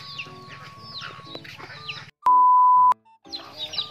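Native chickens cluck and chatter close by, with varied calls throughout and a loud steady electronic beep in the middle that cuts them off briefly.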